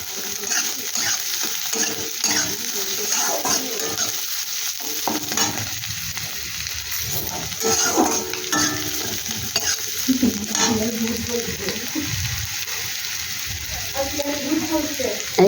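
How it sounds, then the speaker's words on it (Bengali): Onions frying in a pan sizzle steadily while being stirred, with scraping and shuffling strokes through the crackle; a voice talks intermittently over the cooking. "পেঁয়াজটা একটু হালকা করে ভাজা ভাজা করে নেব।"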